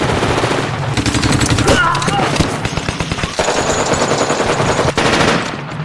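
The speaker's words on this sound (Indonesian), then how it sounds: "Baku tembak pun terjadi" Dense bursts of machine gun fire rattle loudly and almost continuously in rapid overlapping volleys, like a close firefight.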